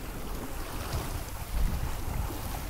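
A sailboat runs under Aries windvane self-steering on a solo passage from Tenerife toward Portugal, with steady wind rush and water washing along the hull, a low continuous roar that swells briefly near the middle.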